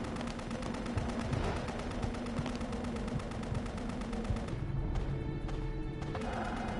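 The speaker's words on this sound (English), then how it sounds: "I hear gunfire" Video game gunfire in BloodRayne rattles in rapid repeated bursts like automatic weapons, steady and fairly loud, with crashing impacts and no talk.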